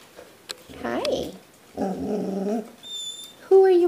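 A pet dog growls and gives short whimpering barks indoors at close range, in bursts with gaps between them, while a person's voice speaks briefly alongside.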